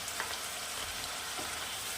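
Potatoes fry in a thin, spiced Bengali folui fish curry, giving a steady, dense sizzle and bubbling that stays loud and even throughout, with no voices.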